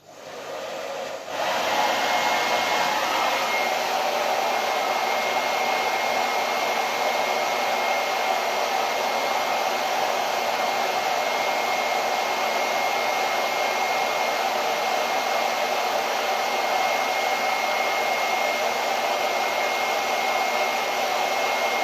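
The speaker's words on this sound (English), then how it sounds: "Let me use the blow dryer." Handheld blow dryer drying wet paint on an autumn craft project, a steady loud whooshing roar that starts abruptly after a brief quiet moment and runs unbroken at constant strength.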